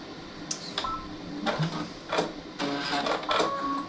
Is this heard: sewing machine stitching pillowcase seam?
yes